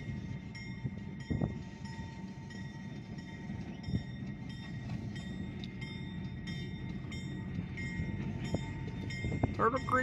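A freight train behind an ex-Union Railroad engine rolls past with a steady low rumble and metallic squeal, several short bursts standing out, while brief voices come through in the background.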